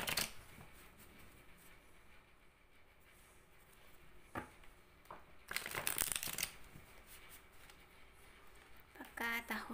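Cards are shuffled for a card reading in short papery bursts of riffling and patting, with a fuller flurry midway and another near the end against a quiet room.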